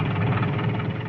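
Tractor engine running on a 1950s American cattle ranch: a steady, dense mid-to-low mechanical drone with a constant rumble, continuous and fairly close throughout the brief moment.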